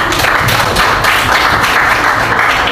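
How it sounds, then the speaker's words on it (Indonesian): Classroom applause from students following a presentation on food additives, a steady dense clatter of many hands clapping throughout, close and loud, with no talk over it. "Tepuk tangan dulu ya."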